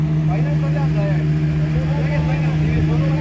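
A fishing boat's engine drones with a low, steady hum, loud and close, while people talk over it.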